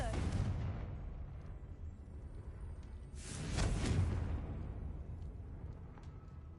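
A Confringo blasting spell from Hogwarts Legacy goes off in a loud, broadband explosive burst partway through, set against a steady rumbling game backdrop.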